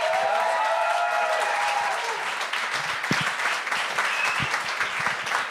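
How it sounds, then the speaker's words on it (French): A studio audience at a comedy talent show applauds a comedian taking the stage, a loud, sustained wave of clapping with cheering tones over music at first, then continuing thick and even. "faites un tonnerre d'applaudissements pour celui qui brise la glace"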